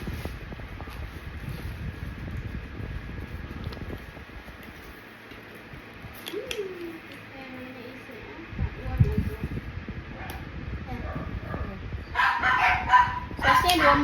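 A dog barks and yips indoors during a session measuring a leather bag's size, with someone talking over it; the barking comes in short bursts, moderately loud but partly under the speech.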